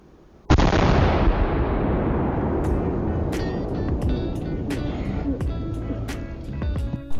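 A homemade cannon fires once with a sharp, loud blast near the start, and a long rumbling decay and outdoor echo follow. Scattered clicks and small knocks trail on afterward, with no talk.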